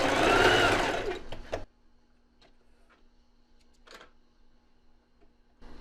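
A sewing machine runs a short burst of reverse backstitching at the end of an elastic seam, a loud buzzing whir for about a second, then stops, leaving faint ticks and clicks of the machine.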